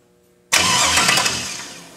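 A 1963 Chevy Nova with a 5.3 V8 fires up after a brief crank, catching abruptly into a loud, rough idle that settles slightly, close by and with no talking.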